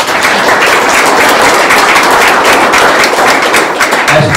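An audience claps in applause at an ICBA gathering in Little Rock, a dense, steady wash of hand claps filling the room for a few seconds.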